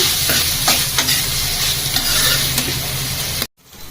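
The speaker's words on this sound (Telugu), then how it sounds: "టమాటాలు వేసుకున్న తర్వాత పసుపు వేసేసుకొని కలిపేసుకొని మళ్ళీ సిమ్లో ఒక టూ త్రీ మినిట్స్ ఉంచేసుకోవాలి" Tomatoes and turmeric stirred as they fry in a pan for an onion tomato curry, giving a steady, close sizzle with scraping stir strokes for about three and a half seconds before it cuts to near silence.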